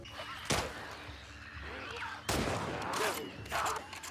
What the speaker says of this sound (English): I really like the way the rifle sounds.